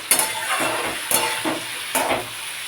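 Onion and chilli fry in a pan as they are stirred, a loud close sizzle swelling with rhythmic scraping strokes roughly every second, no talking.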